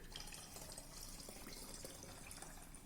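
Liquid for homemade hand sanitizer gel pours steadily into a bottle, a faint continuous splashing trickle with no pauses.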